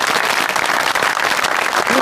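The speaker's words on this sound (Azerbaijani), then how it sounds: "Tofiq müəllim bir daha alqışlayaq xahiş" Audience applause for Tofiq at a comedy show, a dense, steady wash of clapping from a crowd that fills the whole short stretch at even loudness.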